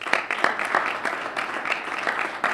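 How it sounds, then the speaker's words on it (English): Guests at a STEM and innovation welcome reception give a round of applause, sustained clapping from a gathered crowd, fairly close and even throughout. "Let's give her a round of applause."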